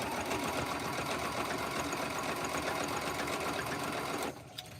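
A sewing machine stitching a snowman head pillow, running in one fast, continuous whirring burst at close range, stopping abruptly just before the end.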